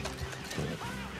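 A horse in Red Dead Redemption 2 gives a brief whinny amid busy, noisy game sound, with hoof clatter and dense background audio.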